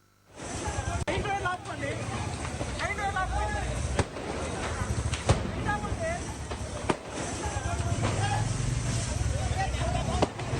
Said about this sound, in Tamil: திருமண ஊர்வலத்தில் வெடித்த பட்டாசுகளால் பயங்கர தீ விபத்து ஏற்பட்டுள்ளது